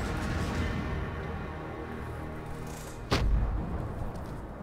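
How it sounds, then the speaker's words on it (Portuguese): A bomb going off in the Far Cry 6 shooter game: a sudden sharp blast about three seconds in, its boom lingering over a constant rumbling battle backdrop. "Ah, bomba."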